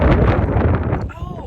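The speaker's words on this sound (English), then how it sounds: "Oh, it's so windy." Heavy, blustery wind buffets the microphone with a loud low rumble, broken by a few sharper gusty thumps and a faint breathy voice.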